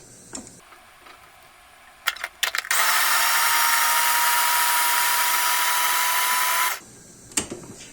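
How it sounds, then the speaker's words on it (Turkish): A blender grinds hot ornamental peppers together with tomatoes for a roasted-pepper hot sauce, a loud steady whir running about four seconds after a few short clicks, with brief knocks before and after. "Bu arada acı süs biberlerimi domateslerle birlikte çektim."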